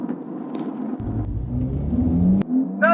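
A 2019 Ferrari Portofino with 760 Nm of torque accelerates hard. The engine note swells and climbs for about a second and a half, then cuts off abruptly, loud and close.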